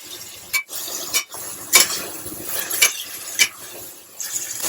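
Boneless chicken fries in a pan with a steady background sizzle, broken by several sharp scraping stirs and clinks of a utensil against the pan.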